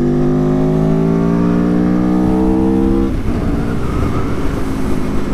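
A prototype car revs hard with rising engine tones, then roars past close by, the note dropping sharply as it goes and fading into road noise.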